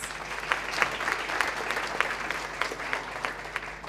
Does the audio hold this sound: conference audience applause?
yes